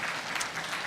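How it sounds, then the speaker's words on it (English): Guests at an interfaith banquet dinner give a brief, dense round of applause, a continuous wash of clapping from a large room. "Could you give them a round of applause, please?"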